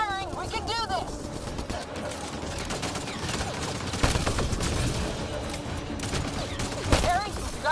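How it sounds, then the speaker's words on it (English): Rapid bursts of automatic gunfire from a PS4 video game crackle almost continuously, loud and dense, under excited voices shouting over the action. "Just keep firing, we can do this!"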